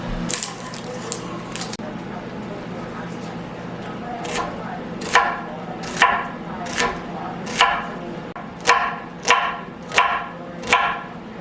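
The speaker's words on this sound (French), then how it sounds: "On va couper les oignons." A kitchen knife chopping onions for a simple home-cooked recipe: a close, regular series of about ten sharp chops that grows louder in the second half, over a soft background hum.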